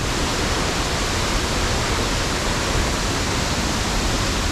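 A woodland stream in the deep woods rushes in a dense, unbroken roar while a plaster cast is rinsed, the water noise loud and close with no other sounds standing out.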